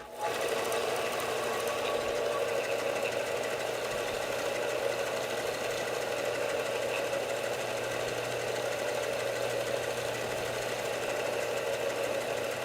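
A $50 Harbor Freight belt sander fitted with a disc in place of its sanding disc, spinning up quickly and then holding a steady, loud mechanical whir and hum, alone with no talk.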